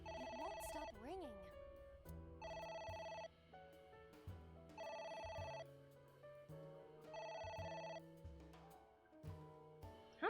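Telephone ringing in repeated electronic bursts, roughly four rings at a steady rhythm, fairly faint under background game music and a brief voice.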